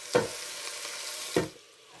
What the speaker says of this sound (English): while the peppers are sweating in the pan, I don't know if you can hear them